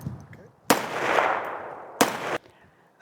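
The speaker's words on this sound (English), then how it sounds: "That was 5 rounds of Fiocchi, and it cycled fine, but just didn't lock back." A Ruger SFAR rifle firing Fiocchi rounds outdoors: two loud, close shots about a second apart, the first trailing into a long rolling echo and the second cut short, with no one speaking.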